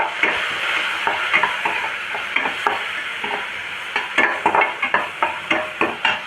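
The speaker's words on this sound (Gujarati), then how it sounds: "આપણી ડુંગળી સતળાઈ ગઈ છે આપણે હવે એમાં ટમેટો નાખી દઈશું" Tomatoes frying with sautéed onions in a pan for seviyan pulao: a loud, dense sizzle carries throughout, with close stirring scrapes becoming a quicker, regular run of knocks near the end.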